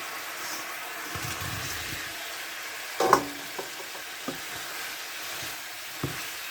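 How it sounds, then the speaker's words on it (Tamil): Chicken pieces sizzle and fry in a pan of honey chilli sauce with South Indian spices, a steady close hiss with a sharper clatter near the middle and a few light utensil taps. "நான் சிக்கனை போட்டுக்கிறேன்"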